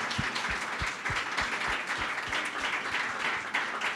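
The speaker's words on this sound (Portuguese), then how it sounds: "Vamos agora para palmas para nós, nona mesa do Conexões." Audience applause at a 2017 literary panel event on the international reception of Conceição Evaristo's work, steady clapping with a few distinct nearby claps punctuating the dense hall-wide patter, continuing evenly for several seconds with no talking.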